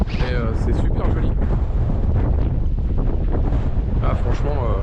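Strong wind buffets the microphone at a boat anchorage in Madeira, a constant loud roar with water and boat sounds beneath it, while a voice speaks faintly through the gusts.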